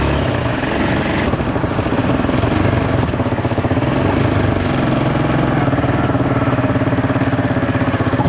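A quad bike engine runs steadily on a beach at Cox's Bazar in Bangladesh, a loud, close, rapid chugging drone that holds even for the whole stretch.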